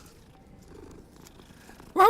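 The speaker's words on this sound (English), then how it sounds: "Why was there a cat there?" A cat in a video game makes a sudden loud, close vocal sound at the very end, after a stretch of quiet, low game ambience.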